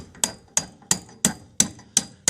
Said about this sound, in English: take a hammer, tap it through.